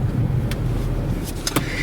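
A Ford Fiesta ST hot hatch pulls away with a low, steady engine rumble close by, punctuated by a few short sharp clicks and knocks near the end.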